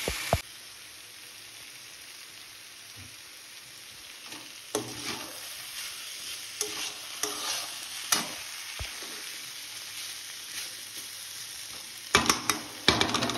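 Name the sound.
onion frying with pointed gourd and potato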